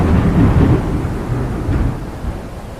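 Thunderstorm with a deep rolling thunder rumble and steady rain, loudest at the start and easing into a continuous low roar, with no other sounds over it.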